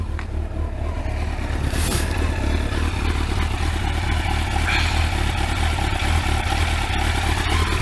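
A Kawasaki ZX12R motorcycle, unstarted for 12 months and looking rough, runs with a loud, steady mechanical engine roar and clatter close by for the whole stretch, with no talk.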